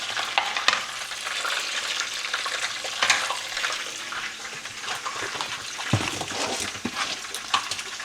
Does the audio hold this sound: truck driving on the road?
no